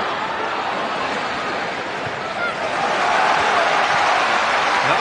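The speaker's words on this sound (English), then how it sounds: "That's got the home crowd on their feet again." Home football crowd at a Rangers match roaring and cheering in a stadium, a dense, steady wash of noise that swells louder midway and holds.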